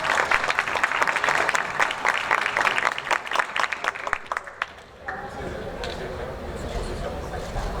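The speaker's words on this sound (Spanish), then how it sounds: "un aplauso para él" A room of attendees at a Latin American political and government summit breaks into brisk, dense applause that lasts about five seconds and then stops abruptly, leaving a murmuring room tone with faint voices.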